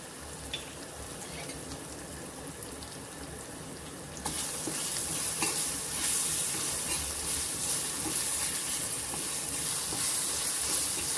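Cumin, asafoetida and crushed coriander and fennel sautéing in hot oil over a low flame: a soft sizzle that swells into a louder, steady frying hiss partway through, heard up close with no voices.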